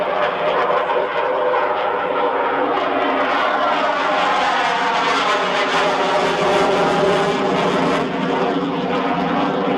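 A Spitfire fighter plane roars past at an airshow, its engine a loud, continuous drone that swells and fades slightly as it comes around to land.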